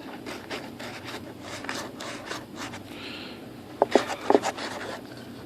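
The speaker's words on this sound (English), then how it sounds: "So I'm just going to get a little bit of rough and scuff here" Sandpaper scuffs the plastic canopy of a 2.6 m composite ASH26 model sailplane with soft, repeated rubbing strokes. A few sharper, louder scrapes come near the end. Quiet and close, with no voices.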